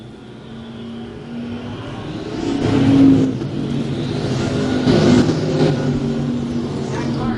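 Modified race cars roar around a dirt oval track at a Mods, Vintage and Pure Stock A-main event, their engines droning steadily and swelling louder as cars pass close, under continuous crowd and announcer-level din.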